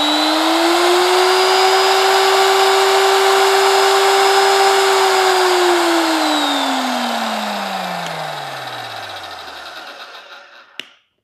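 A VEVOR 8850e magnetic drill running in reverse whines steadily at a high pitch for several seconds, then winds down gradually to a stop, ending in a small click.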